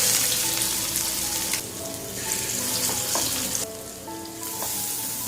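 Cutlets sizzle steadily as they fry in a hot pan, a continuous crackling hiss with a few brief clinks of a utensil, close and fairly loud throughout, no voices.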